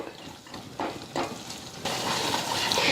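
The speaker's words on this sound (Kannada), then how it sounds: "ಈಗ ಕೊಬ್ಬರಿ ಬೆಲ್ಲ ಎಲ್ಲ ಮಿಕ್ಸ್ ಆಗೈತೆ ನೋಡ್ರಿ. ಒಂದು 2 ನಿಮಿಷ ಇದೇ ರೀತಿ ಫ್ರೈ ಮಾಡ್ಕೋಬೇಕ್ರಿ" Grated coconut and jaggery fry together for moong dal halwa, giving a close, hissing sizzle broken by a few scraping stirs. The sizzle swells louder and brighter partway through, and no one speaks.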